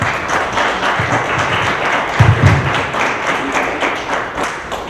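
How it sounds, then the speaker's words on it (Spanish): Applause from the audience at a forum on women's political participation in Mexico, a sustained crowd of hands clapping evenly, swelling briefly at one point before easing off slightly. "Un aplauso, por favor."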